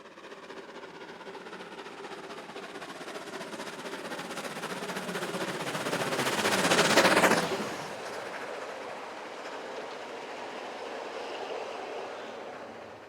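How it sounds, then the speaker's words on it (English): Preserved 2-8-0 steam locomotive number 108, built 1906, hauling a train between Samedan and Pontresina, rolling steadily past and swelling to a loud peak before fading. "Our first view is of preserved steam locomotive number 108."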